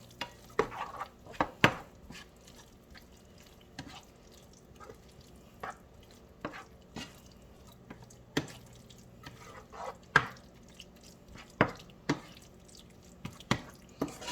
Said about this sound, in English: just start mixing that up into the meat and onions